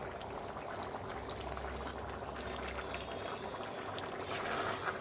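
A vegetable curry simmers quietly, with a faint, soft bubbling and light liquid trickle as a tempering of oil and chopped onion is poured over it; the sound stays low and even throughout.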